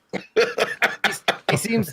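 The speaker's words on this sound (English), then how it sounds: "He was coughing pretty hard for a second." A series of about six sharp, hoarse coughs in quick succession, close and fairly loud, with short gaps between them.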